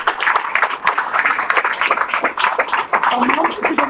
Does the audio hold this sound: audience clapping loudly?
yes